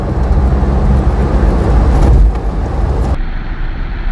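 A 1998 Smart car revs hard as it accelerates, the engine roaring loud and close for about three seconds before dropping sharply to a quieter rumble.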